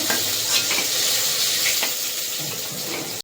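Fish pieces frying in hot oil give a dense, steady sizzle and crackle close by, with faint stirring scrapes and no talk, before cutting off abruptly at the end.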